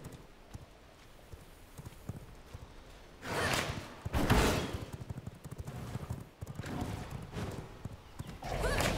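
In the video game V Rising, a horse whinnies and hooves clop in bursts over a low steady background, with a few sharp pops mixed in; no talking.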